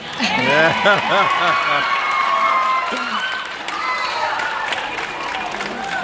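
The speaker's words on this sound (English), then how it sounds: "Go ahead and applaud if you feel." Audience applause and cheering at a high school band banquet for the drum majors, steady clapping and crowd noise throughout with shouting voices layered over it early on.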